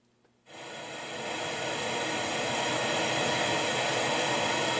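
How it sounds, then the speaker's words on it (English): Broadband pink noise comes through a loudspeaker in a room. It starts abruptly after a moment of quiet, then holds a steady, even hiss that swells a little louder in the first second or so. "Let's put some pink noise in the room."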